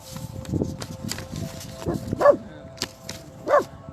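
A dog barks and yips a few times, short sharp calls scattered among indoor rustling and brief voices nearby, with two clearer barks standing out toward the end.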